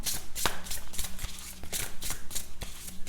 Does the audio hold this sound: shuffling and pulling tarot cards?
yes